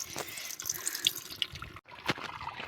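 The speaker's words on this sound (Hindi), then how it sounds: "ये देखिए मेरा पानी भर गया है" Cold spring water pours steadily into a container, a continuous splashing trickle with small drips and bubbling, with a brief break before the flow resumes.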